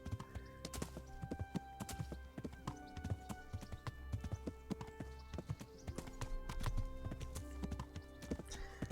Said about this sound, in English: Is that Capon's horse?